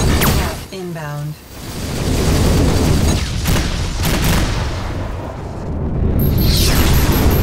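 Heavy missile explosion in the space combat game Rebel Galaxy Outlaw, a big booming blast with rumbling aftermath and further bursts, mixed with electronic tones and radio chatter.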